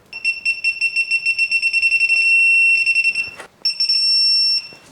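A digital torque wrench capable of left-hand torque, used on a titanium bicycle build, emits a fast run of electronic beeps that merge into a sustained tone, then pauses briefly before a second steady tone.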